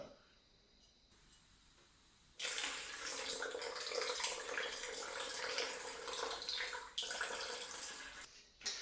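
After a quiet start, a strong stream of cold water gushes into a measuring jug for several seconds, continuous and close, with a brief pause near the end.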